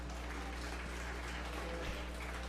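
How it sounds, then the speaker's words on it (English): Clapping from the crowd at a 4-H fair beef show after a steer class, a continuous, even patter of applause with a low hum beneath it. "let's give these two young ladies a round of applause"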